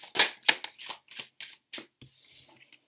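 Tarot cards riffled and dealt in a quick run of about six crisp bursts, then softer sliding and tapping as cards are drawn, close up with no talk.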